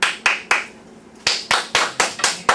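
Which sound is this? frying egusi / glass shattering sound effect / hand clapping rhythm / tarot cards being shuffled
hand clapping rhythm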